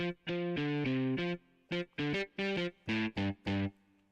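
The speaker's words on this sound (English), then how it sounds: "that's a mini soft synth sound with some distortion and then a guitar sound" Distorted soft synth and guitar sounds on a Yamaha Montage 7 play in short choppy bursts, a rhythmic sequence of bright, buzzy tones with brief gaps between them.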